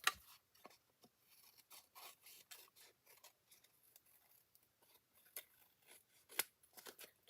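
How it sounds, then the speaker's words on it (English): Paper snips trim the edge of a paper envelope flap during card making, giving a quiet series of short crisp snipping cuts, close and faint, with no talking. "I'm going to take my paper snips."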